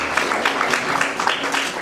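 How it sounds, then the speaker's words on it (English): A short, dense round of applause from an audience for a panel at a stock exchange opening bell ceremony, steady clapping filling the whole moment with no talk. "And a round of applause for the panel."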